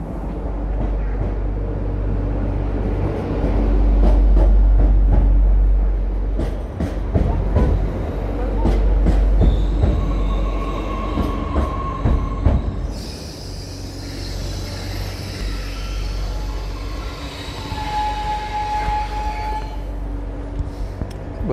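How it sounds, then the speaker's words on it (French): A small train rumbles past at close range in crowded streets in Alsace, low and steady, with clattering wheels and a brief high squeal, then eases into a quieter hum. "C'est notre train qui est tout petit en fait."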